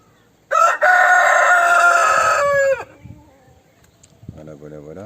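A rooster gives a loud, close morning crow lasting about two seconds, followed by quieter farmyard sounds and a short nasal call near the end, on a rural smallholding with a solar-powered automatic henhouse door.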